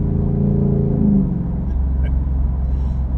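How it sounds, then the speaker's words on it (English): A Ford Raptor truck with a 10-speed automatic in sport mode gives off a deep, loud exhaust drone from close by, rising briefly before settling into a steady low rumble. "You hearing that exhaust?"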